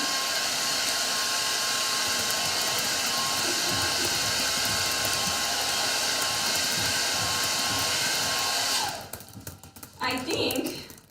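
A hair dryer blows loud and steady at close range while drying stencil paint, then cuts off near the end as people start talking.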